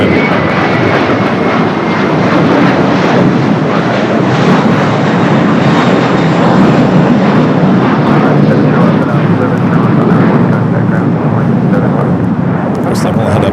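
WestJet aircraft in Silent Wing livery at Los Angeles airport, a loud continuous engine roar close by, with a voice talking over it throughout.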